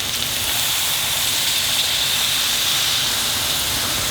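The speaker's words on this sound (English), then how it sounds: "And now we're going to add the water for gravy" Steady, loud hissing and sizzling as water is poured into a hot pan of frying potato and aubergine curry, with no pauses or voices.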